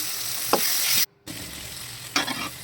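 Vegetables with turmeric and chilli powder sizzle steadily in a hot pan for fried idli, with a couple of scraping stirs and a brief cut in the sound.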